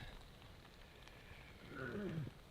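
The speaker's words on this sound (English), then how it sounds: "Sounds like rain." Rain patters on a tent at a campsite during a stormy fishing trip, a soft steady wash of drops that swells briefly near the end, with no voices.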